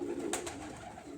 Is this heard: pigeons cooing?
yes